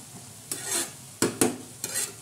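Spoon stirring cooked fenugreek leaf vegetable (methi bhaji) in a kadai, four short scraping strokes at uneven intervals, each with a light sizzle behind it, close and clear, with no one speaking.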